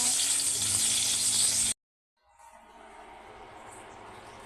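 Onion sizzles loudly in a pan alongside hotdog with a bright steady hiss, then cuts out abruptly, leaving a quieter, fainter frying sound after a short silence.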